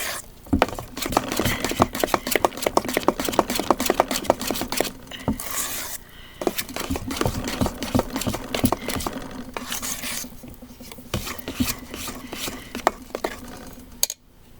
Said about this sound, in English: I'm going to start using my spoon now because it's getting very hard to stir